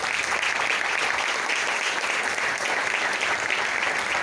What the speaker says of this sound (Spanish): Si no creen, un aplauso al Señor.